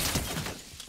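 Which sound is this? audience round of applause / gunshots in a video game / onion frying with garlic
gunshots in a video game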